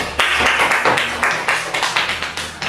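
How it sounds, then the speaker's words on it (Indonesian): An audience claps together in a short burst, sharp rhythmic hand claps repeating quickly and fairly close for a few seconds, with little talk. "boleh berikan apresiasi tepuk tangan"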